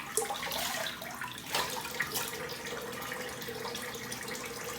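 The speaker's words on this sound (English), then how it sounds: "do a cold water rinse" Tap water running for a cold water rinse after shaving, a steady close splashing stream with a few louder bursts as water hits skin and the sink, heard alone.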